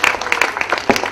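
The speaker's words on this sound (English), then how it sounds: "A big round of applause for all the devotees." Audience applause at an ISKCON Pune annual awards event honouring devotees, a brief burst of dense clapping from a crowd filling the hall.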